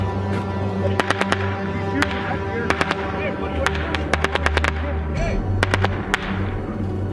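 Sharp, rapid bursts of gunfire crack repeatedly over a constant engine rumble, some shots clustered in quick volleys.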